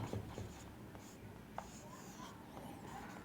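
Pen or pencil writing notes during a Hindi-language lesson on the state governor, with faint scratchy strokes running quietly and continuously in the background, no speech over it.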